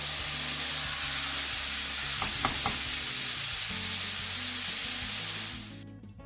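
Beef steak sizzles and fries loudly in a hot pan as a steady, dense hiss, with a few brief clatters partway through, before the sound cuts off near the end.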